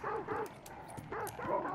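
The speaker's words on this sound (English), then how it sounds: "Where are those dogs barking?" Dogs in the video game Hunt: Showdown bark and yip as an audio cue. The repeated barks sound somewhat distant and fairly faint, with no talking over them.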